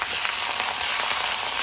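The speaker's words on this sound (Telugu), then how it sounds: "పచ్చిమిరపకాయలు, కరివేపాకు అన్నీ వేసి కొంచెం ఫ్రై చేసుకోండి." Green chillies and curry leaves crackle in hot oil in a pan, a loud, dense, continuous sizzle close by with no talk.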